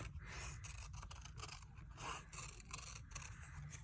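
Scissors snipping and scraping through paper up close, repeated cuts in an irregular rhythm, fairly quiet with no talking.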